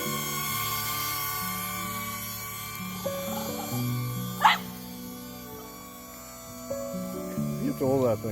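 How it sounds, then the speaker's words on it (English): Dog barking at a hovering drone at Wild River State Park, a few sharp barks over a steady high motor whine, with faint voices nearby. "dog versus drone."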